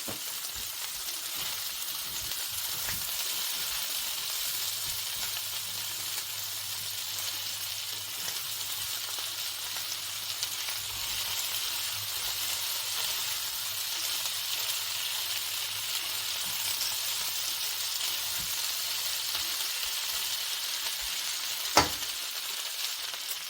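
Steady sizzling of cut potatoes stir-frying in a hot pan, a constant hiss running throughout with a brief sharp clink near the end.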